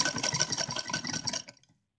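A sewing machine runs a fast, even rattling stitch along fabric for a doll's lehenga-chunri dress, close and steady for about a second and a half before stopping abruptly into silence.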